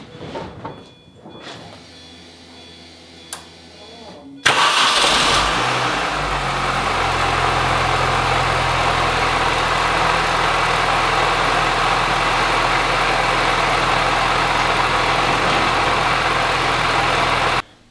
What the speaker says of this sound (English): All right, so starting the car, I see I have a coolant leak.